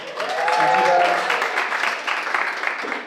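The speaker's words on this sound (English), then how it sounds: "Round of applause." Comedy club audience breaks into applause, a dense burst of clapping swelling then thinning out over a few seconds, with a voice briefly audible over it at the start.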